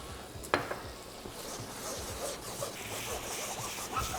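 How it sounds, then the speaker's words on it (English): Cider hits a hot pan of dried spices with a sharp hiss at the start, then settles into a soft, steady sizzle and light bubbling close by. "I'm just going to go in with a little bit of cider."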